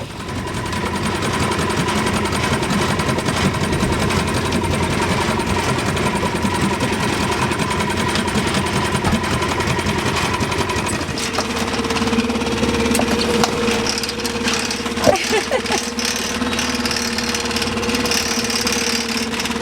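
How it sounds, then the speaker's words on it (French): A boat engine runs steadily at low power on a canal, a continuous close mechanical drone with a shift in tone partway through and a brief knock near the end, no voices. "Dans le canal, je mets jamais le moteur à pleine puissance pour ne pas déranger les riverains."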